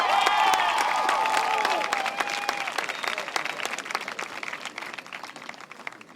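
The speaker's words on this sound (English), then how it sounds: "let's give the community your thanks by giving a round of applause" A crowd at a high school graduation applauds steadily, the clapping loud at first and then gradually thinning and fading over several seconds.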